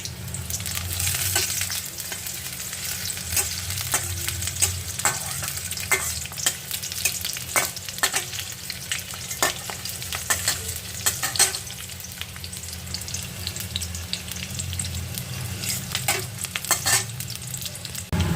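Sliced onions fry in a pan for a shrimp and potato dish, browning in a steady, close sizzle with frequent sharp clicks and scrapes from stirring. No one speaks.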